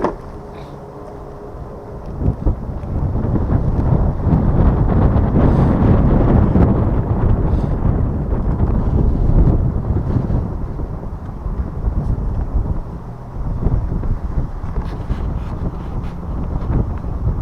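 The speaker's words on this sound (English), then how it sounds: "A little bit of a windy day today" Steady wind roars and buffets the microphone in low, rumbling gusts during a Hiboy S2 Pro electric scooter ride by a river, loud and continuous with no voices.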